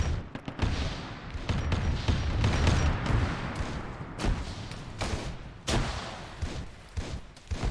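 Battlefield combat in a Warhammer 40K game beach assault: rapid bursts of gunfire mixed with sharp cracks and a few heavier explosive thumps, steady and moderately loud with no voices.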